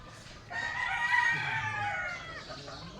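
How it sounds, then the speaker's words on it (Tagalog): A rooster crows loudly and close by in a long, drawn-out call at a game farm with many chickens, other fowl faintly audible behind it. "Ayan guys, tingnan nyo, napakadaming mga manok."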